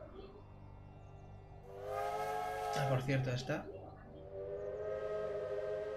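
A locomotive whistle blows in the Railway Empire train game, a long steady blast that swells and wavers, with someone talking briefly over its middle before the tone carries on.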